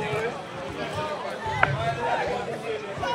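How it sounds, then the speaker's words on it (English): Distant, overlapping voices of a crowd calling out to players at an outdoor T10 softball cricket match, a continuous babble of shouts with one brief sharp knock partway through. "you could hear the crowd giving instructions there to the players outside the off-stump again"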